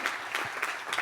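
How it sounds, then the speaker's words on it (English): Faint, distant applause from an audience at a state agency update meeting, a short, soft patter of clapping. "Let's give all of them a round of applause for helping to make this happen."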